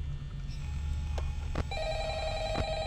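An old-style telephone rings in the Five Nights at Freddy's horror video game, a few sharp bell bursts over a steady low electrical hum, with no talking.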